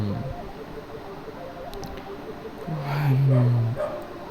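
A neighbours' dog barks outdoors at a distance, a few muffled yips and a drawn-out whimpering bark heard faintly through a steady background hiss.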